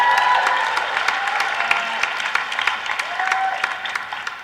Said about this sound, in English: give Tulane a round of applause